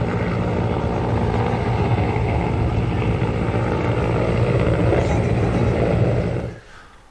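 Inside a rescue helicopter in flight, a loud steady engine and rotor roar fills the cabin, then cuts away abruptly near the end.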